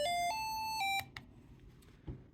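A digital alarm clock built as a lab project beeps in a short run of bright, stepping electronic tones that stop abruptly after about a second, followed by a few faint clicks and a soft thump.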